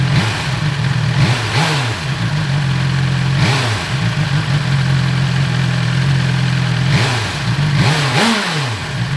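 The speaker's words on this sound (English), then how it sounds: "the S1000XR sounds nice for an inline 4-cylinder engine" A BMW S1000XR motorcycle with an inline four-cylinder engine idling steadily, broken by several quick throttle blips that rise and fall in pitch, close and loud with no voices.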